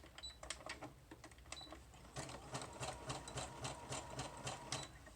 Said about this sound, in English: let's try sewing that on and see what we get